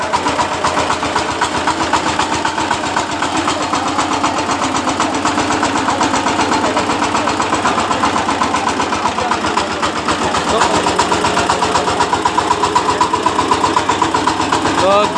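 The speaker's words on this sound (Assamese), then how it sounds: "ট্ৰেক্টৰ ফাইনেলি ওলাই গ'ল" A remote-controlled tractor engine chugs loudly and continuously nearby, its steady rhythmic knocking running throughout with a slight rise near the end.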